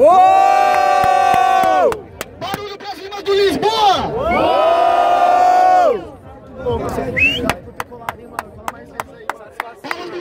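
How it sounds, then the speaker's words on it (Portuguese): A street rap battle crowd erupts in loud unison shouts and cheers, two long roaring swells broken by a pause, followed by rhythmic chanting punctuated by sharp, evenly spaced claps. "Barulho pra cima do Tatu!"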